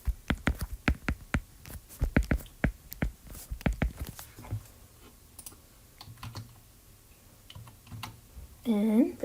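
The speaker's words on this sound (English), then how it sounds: "if you type this in your calculator" Fingers tap out numbers on a calculator in a quick run of crisp, close presses, followed by a quieter stretch with a few scattered clicks and a brief voice at the end.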